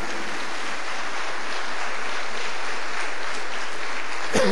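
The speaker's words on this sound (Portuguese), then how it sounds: "Você pode aplaudir o Senhor Jesus?" A church congregation applauds in worship, a thick, continuous roar of many hands clapping at even loudness, with a brief louder burst at the very end.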